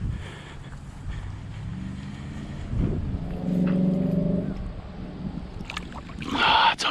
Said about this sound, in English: Ooh, that wind. Yikes. I hope that's not too loud on the camera.